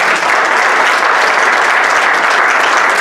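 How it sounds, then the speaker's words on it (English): A church congregation clapping their hands during Sunday worship, producing dense, loud, continuous applause that fills the whole moment with no pause. "Clap your hands for Jesus"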